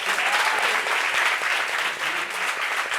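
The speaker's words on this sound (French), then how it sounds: "Guelou, on l'applaudit pour elle." A French talk-show studio audience applauds continuously, dense and steady clapping filling the whole stretch at a loud, even level.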